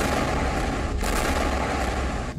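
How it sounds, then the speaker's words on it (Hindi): Dense, sustained gunfire crackles without pause in Gaza during the Israel-Hamas war, a rapid barrage of shots blending into a continuous roar with a brief sharper burst near the end. "गोलीबारी,"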